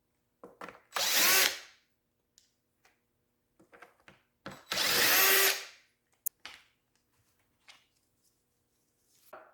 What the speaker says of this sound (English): Got my 11mm socket on my impact driver, and should make pretty short, quick work of this.